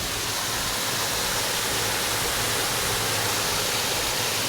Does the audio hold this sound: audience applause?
no